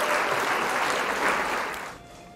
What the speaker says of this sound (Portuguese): Merece um aplauso, fala sério